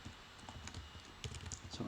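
Someone types a short command on a computer keyboard, with quick light key clicks at close range over a faint background hum.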